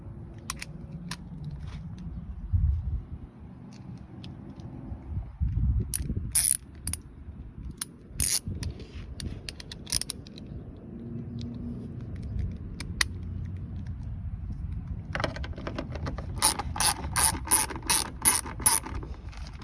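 A ratchet wrench works 10 mm screws on the tail light of a Nissan Armada or Infiniti QX80, giving sharp clicking bursts between pauses and a fast run of clicks near the end, close and clear.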